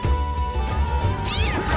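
Cats meowing in The Witcher 2, a short burst of close, loud feline cries over a low droning background, ending in a rising wail.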